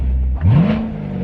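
Chevrolet Corvette C7 fitted with a Borla X-pipe exhaust, heard from inside the car: a single loud rev climbs quickly in pitch, then holds a steady, throaty drone with no talking.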